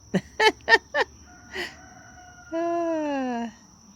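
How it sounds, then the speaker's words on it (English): Short clucking bursts from poultry, then a single sustained, wavering call that trails off, heard fairly close in a quiet outdoor setting. "I hear hawks, frogs, and poultry"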